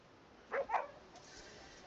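A dog in a video game gives two short, quick barks, faint and a little distant over a low background hiss.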